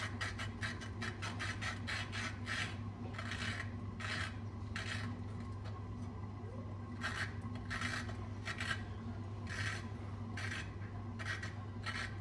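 Steady rasping scrape repeated in rhythmic strokes as a Briggs and Stratton engine valve is scraped clean, over a constant low mechanical hum.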